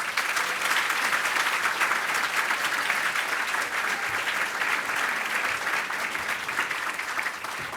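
A large audience at a city State of the City address applauds for the Citizen of the Year, with dense, steady clapping that stays loud and even throughout.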